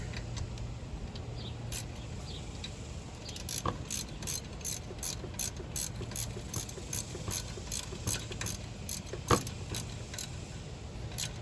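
Ratchet with an extension turning the alternator bolts on a Chevy Tahoe, heard as rapid metallic clicking bursts that start around the middle and repeat in quick strokes, close up over a steady background hum.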